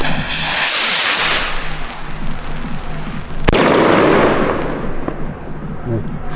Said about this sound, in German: So, haben wir jetzt hier die Argento 38mm Raketen. Wir zünden einfach mal weg